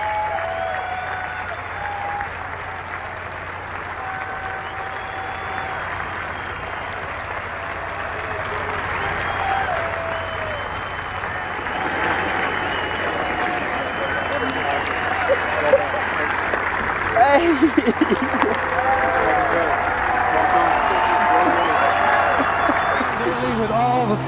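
A large golf gallery applauds a major champion's victory with sustained, swelling clapping and cheering that grows louder toward the end, while a commentator talks over it.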